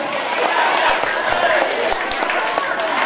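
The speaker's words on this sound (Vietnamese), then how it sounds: "Vỗ tay to lên, khích lệ tinh thần." An audience at a temple children's event applauds, a dense, steady wash of clapping at moderate level lasting the whole moment, with a few sharp thumps and crowd murmur mixed in.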